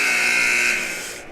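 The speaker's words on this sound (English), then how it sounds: "That's the buzzer." A basketball game buzzer at a high school gym gives one loud, steady electronic blare that holds for about a second and then fades out.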